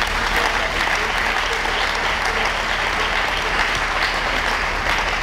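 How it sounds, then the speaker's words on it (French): A church congregation at a Sunday sermon claps loudly and continuously, a dense, even wash of applause from a large crowd that fills the whole stretch. "Acclamons très fort."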